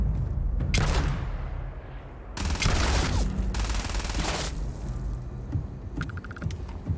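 Gunfire in the sci-fi video game Starfield, with loud bursts of rapid shots in two main volleys, then quieter ambient action and a few faint mechanical clicks.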